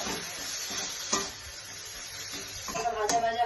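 Chopped onion, garlic, ginger paste, cumin and turmeric fry in hot oil in a pan, giving a steady close sizzle broken by a few scraping stirs and light utensil knocks.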